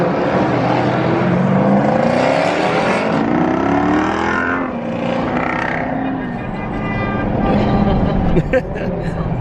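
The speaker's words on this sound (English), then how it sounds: "They're honking because they heard it." Busy traffic at a large Jeep SRT and Trackhawk meet, cars passing and horns sounding intermittently, fairly loud, with people talking over the street noise.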